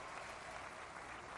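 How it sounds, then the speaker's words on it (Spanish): Steady, dense applause from a large political rally audience in Mazatlán, Sinaloa, honouring deputies and senators, filling the whole moment without a break and without voices on top. "un aplauso para nuestros diputados y senadores"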